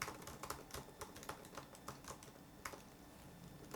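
Typing on a 2018 MacBook Air butterfly keyboard, a fast stream of light, crisp clicks and taps, close but fairly quiet, with no voices.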